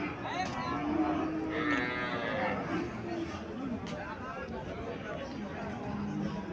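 A Sahiwal cow with her calf in Comilla lows in a series of long moos over steady crowd chatter and nearby voices.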